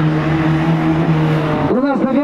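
An Izh pickup races on an icy track at a Russian winter auto show, its engine droning loudly, then swooping in pitch as it passes close by, with an announcer talking over it.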